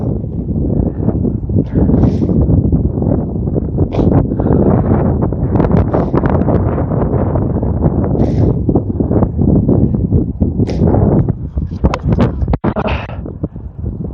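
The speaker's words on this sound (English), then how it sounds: "the bloody wind is so strong" Strong wind buffets a microphone on a golf course, a loud continuous roar with gusty surges and a few rustles over about fourteen seconds.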